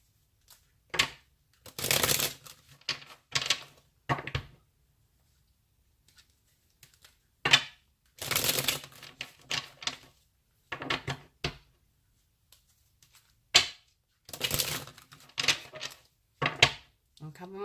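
Repeated bursts of a deck of cards being riffle-shuffled, close and crisp, in several separate rounds with quiet pauses between them.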